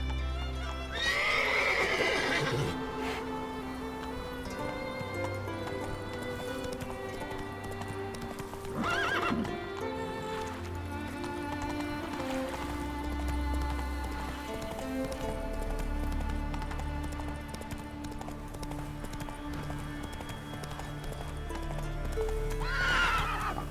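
Roach the horse in The Witcher 3: Blood and Wine, galloping with steady clip-clop hoofbeats and neighing loudly at the start and again near the end, over a continuous ambient background.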